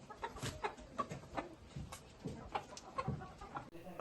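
A tall, colorful multicolored chicken, black with white spots, clucks repeatedly in short, uneven bursts, close by, with a faint background hum and no speech.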